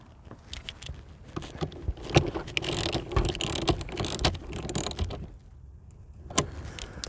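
Ratchet clicks in short bursts while tightening the battery terminal bolts on a 2015 Jeep Wrangler, close and fairly loud, with brief pauses and a final burst near the end.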